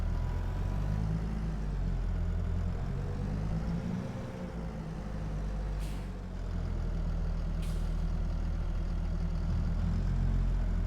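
A tractor engine idles steadily in a farming video game, a loud continuous low rumble with two brief hissy bursts partway through and no talking.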